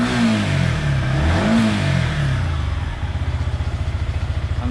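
Yamaha MT15 motorcycle engine revving up and easing off, then settling into a fast, even pulsing beat; loud and close, with no talking.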